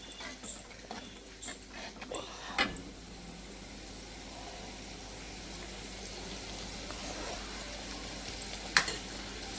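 Spices sizzle and fry in a clay wok as the masala is stirred before the goat meat goes in, a soft, steady hiss with a few scraping stirs and clinks, faint and close.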